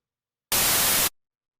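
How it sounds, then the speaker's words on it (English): Synthesized white noise generated in Ableton Live sounds as a single steady burst of loud, full-band hiss lasting about half a second, starting and stopping abruptly amid silence. "There, looks like white noise to me."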